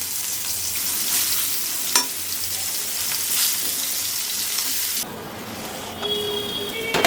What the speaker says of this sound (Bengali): একটু সুন্দর করে লবণ হলুদটা দিয়ে মেখে নেব, তো ভেজে নেব।